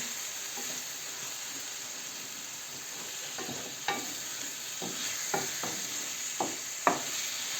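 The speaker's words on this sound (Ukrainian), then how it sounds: "Аби пересмажився томат." Steady sizzling of tomato frying in a pan for plov, with occasional scraping and stirring clinks rising above the hiss.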